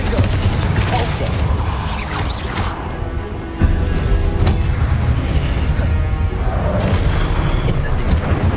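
The Confringo spell in Hogwarts Legacy lands as loud booming blasts and crashes inside a dense, rumbling battle din, with one sudden sharp impact partway through.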